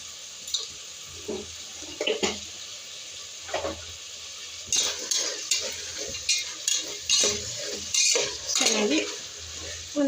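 Vegetables being fried with turmeric and stirred in a pan for a mutton tripe gravy, quiet sizzling under intermittent scraping and clinking of a spoon against the pan, growing busier toward the end.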